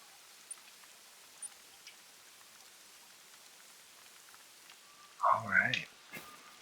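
Steady rain falls in the Layton Lakes District hunting game, a soft continuous patter at low level with a few isolated drips, then a brief louder rustle near the end.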